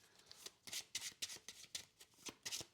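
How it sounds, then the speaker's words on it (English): A deck of game cards is shuffled by hand nearby, giving quick, crisp riffling bursts in an uneven rhythm of soft repeated snaps. The sound is fairly quiet, with no talking over it. "Just shuffle the cards a bit."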